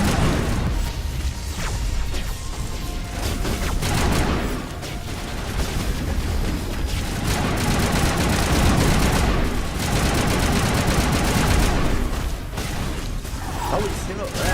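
Gunfire in the sci-fi shooter Mass Effect: steady bursts of weapon fire, impacts and mechanical clatter run continuously and loudly through a busy combat soundscape, with a voice talking over it.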